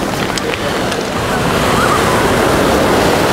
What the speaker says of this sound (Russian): Здесь волны, по-моему, еще сильнее